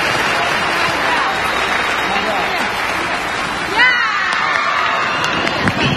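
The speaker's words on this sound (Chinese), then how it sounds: "给他一点掌声好不好" A television show audience claps and cheers in a broad, continuous wash of applause, with voices calling out over it before the noise thins near the end.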